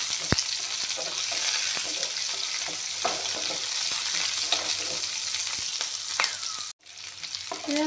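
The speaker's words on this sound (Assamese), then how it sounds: "পিঁয়াজখিনি অলপমান ভাজি ল'ম।" Onions fry in hot oil in a pan after whole five-spice seeds go in, a continuous crackling sizzle broken by scraping stirs and a few sharp utensil clicks, with a brief drop near the end.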